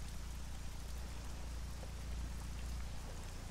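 Rain falls in a video game as a steady, even hiss of drops that fills the whole stretch at a constant moderate level, with no voices over it.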